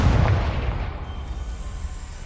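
Confringo spell explosion in the video game Hogwarts Legacy: a loud, deep boom at the start that rumbles and fades slowly over a couple of seconds, with no voices.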